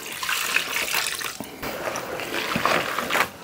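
Water poured into a bowl of ground Hawaiian sausage meat mixed with flour, a steady close splashing trickle running for a few seconds with brief dips, no talking.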